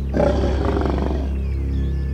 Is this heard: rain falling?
no